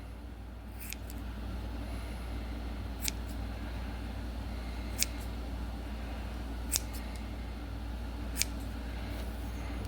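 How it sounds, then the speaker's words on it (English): Scissors snip through paracord a few times, sharp isolated clicks spaced a second or two apart over a steady low engine-like rumble. "These scissors don't want to work too great"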